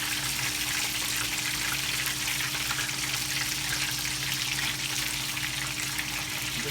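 Tempura-battered cod and fries deep frying in hot oil, a dense, even hiss of bubbling fat holding steady throughout, moderately quiet with no voices.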